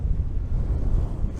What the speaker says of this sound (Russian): смотрите, большая какая волна идет